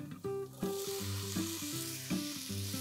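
Chopped tomatoes, green chilies and ginger sizzle in a pan, a hissing fry partly buried under a stepping musical melody that plays throughout.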